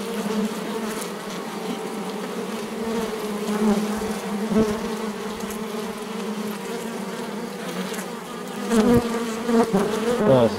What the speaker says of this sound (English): There it is. The camera's in the beehive now.